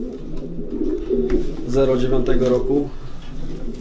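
Older racing pigeons cooing in a breeding loft, a close rhythmic throaty coo repeated over a few seconds, with someone speaking over the birds.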